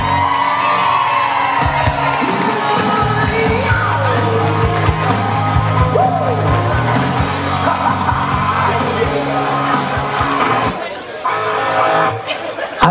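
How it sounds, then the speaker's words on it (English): Wedding guests at a reception cheer, whoop and applaud as the bridal party is introduced, a loud, continuous crowd roar with yells and chatter throughout, easing slightly near the end. "How about a nice round of applause for our lovely bridesmaid, Marlena Traficanti, escorted by our groomsman,"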